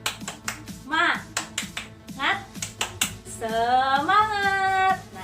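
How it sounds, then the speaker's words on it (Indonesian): A teacher leads a fourth-grade class in a rhythmic spirit clap, sharp patterned claps in short bursts alternating with her chanted calls and a sung cheer at the end. "kita akan mengadakan tepuk semangat lebih dahulu ya"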